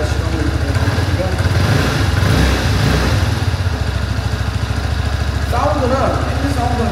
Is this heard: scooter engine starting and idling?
yes